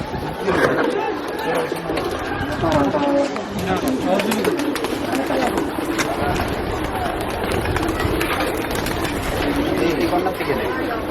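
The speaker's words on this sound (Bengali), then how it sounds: "অনেক কবুতর, দুই একটা না, এবং আকাশেও অনেকগুলো কবুতর" A large flock of pigeons coos and flutters around a rooftop, with the soft burbling calls continuous and fairly close, and people talking over them.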